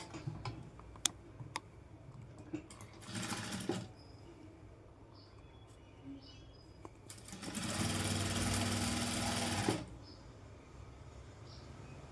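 A sewing machine top stitches the hem of a Panjabi dress in two short bursts, a brief run and then a longer steady one, amid light ticks and fabric handling.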